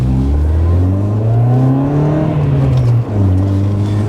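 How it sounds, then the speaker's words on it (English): A tuned 1.4 K-series engine in a Rover Streetwise revs loudly and steadily from inside the car on a test drive, its pitch rising and falling with a brief dip near the end. "That engine sounds sweet."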